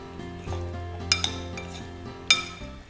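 Chicken salad with grapes, almonds and pineapple pieces being mixed with cream in a bowl, giving soft scraping and a few sharp utensil clinks against the dish over a low steady hum.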